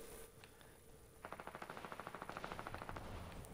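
Rapid, evenly spaced bursts of pistol fire in the Fortnite video game, a quick string of about twenty shots in under two seconds, fairly faint and without talk.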